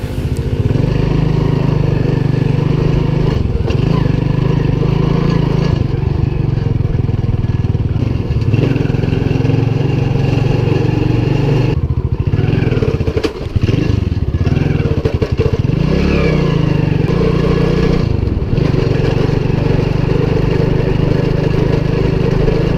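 A motorbike engine running steadily on a moto trip through Vietnam, with a loud, constant rumbling drone, slight clatter and small pitch wobbles throughout, close by.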